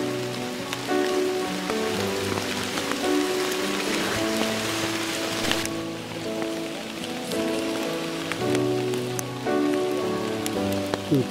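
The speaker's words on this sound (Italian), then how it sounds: "sotto la pioggia estativa." Summer rain falling on a woodland during a porcini mushroom hunt, a steady close patter of drops on leaves and surfaces with scattered louder drips, no voices.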